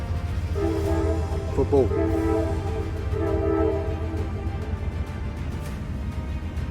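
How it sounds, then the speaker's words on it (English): A passing train sounds its horn in several blasts, loud and sustained over a low rumble, with someone talking over it. "out of nowhere a train pops up and toots his horn numerous of times"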